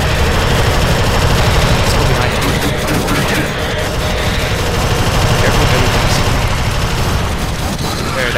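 Dense, continuous gunfire from the video game Alien Swarm, rapid automatic bursts layered into a loud, unbroken barrage with booming impacts throughout, no pauses.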